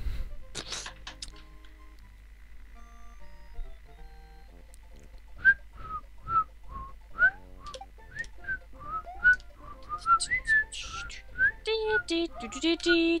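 A person whistles a bouncy tune along with Super Mario World game music, short melodic notes in a steady rhythm, some sliding, close and fairly clear over quiet background game sounds.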